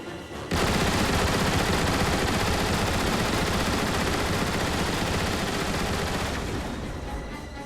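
An ion displacer turret in Transformers: War for Cybertron fires as a continuous loud mechanical stream of rapid shots that starts abruptly and holds steady for several seconds before easing slightly.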